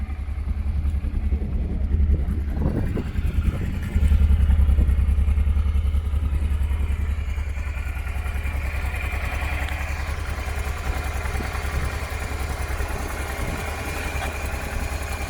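An old Honda Transalp XL600 enduro motorcycle engine idles while warming up, a steady, close, low thrumming rumble with a slight clattering texture that holds even throughout.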